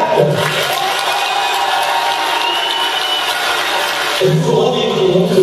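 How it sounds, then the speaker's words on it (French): A large crowd at a Star Wars convention at Disneyland Paris applauds and cheers for Robert Black, a dense, loud, sustained wash of clapping and voices that shifts near the end. "faire un dernier applaudissement pour Monsieur Robert Black"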